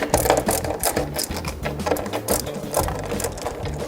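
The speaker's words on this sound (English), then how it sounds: "Place it down into the actual screw holes, again lightly screw." Screws for a snowboard binding being driven into the board's screw holes, a fast rhythmic mechanical ratcheting and whirring that pulses steadily and close up, with no talk.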